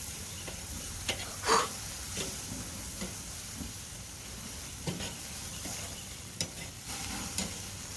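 A burger patty sizzles on a grill at a low, steady level, with a few faint scrapes and clicks poking through the continuous crackle.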